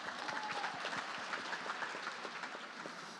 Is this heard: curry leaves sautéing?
no